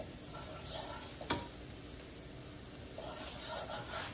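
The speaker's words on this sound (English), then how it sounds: "My um, onions and my garlic have been cooking nicely." Onions and garlic sizzle softly in a pan, making a faint, steady frying hiss with one brief utensil tick partway through and the hiss rising slightly toward the end.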